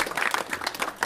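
A short burst of loud, crisp clapping from a crowd at a rap battle event, quick uneven claps bunched close together.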